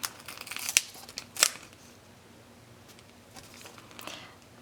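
Scissors trim excess paper from a piece of a 6x6 mini album, two crisp snips close by, one near the start and one about halfway through, then quiet rustling of paper handling.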